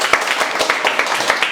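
Audience applause at a farewell and certificate ceremony for a mobile repair training batch, a loud, dense burst of many hands clapping close by, with no voices.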